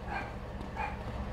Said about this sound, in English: Uh-oh. Dogs are mad.